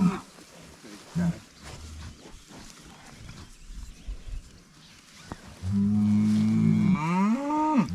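Heifer cows on a farm, one the mother of twins, give a long, loud, close moo near the end, after quieter low bovine grunts and calls with people chatting in the background.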